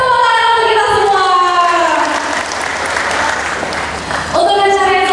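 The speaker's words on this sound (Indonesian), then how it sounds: "tepuk tangan untuk kita semua." Loud crowd applause at an Indonesian regency-head (Bupati) campaign event. Sustained clapping with some cheering fills the middle, while tonal voices or music ring over it at the start and again near the end.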